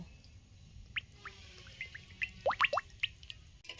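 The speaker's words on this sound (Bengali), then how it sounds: "আমার কড়াইতে হিট হয়ে গেছে। এখন আমি সাদা তেলটা দেব।" White oil pours into a heated wok in a home kitchen: faint background hush broken by a few soft drips, then a quick cluster of small liquid plops near the end.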